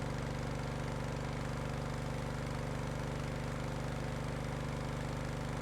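A vehicle engine running steadily in the video game Stormworks, a loud continuous droning hum with a fast regular pulsing, constant in pitch and volume throughout with no other sounds.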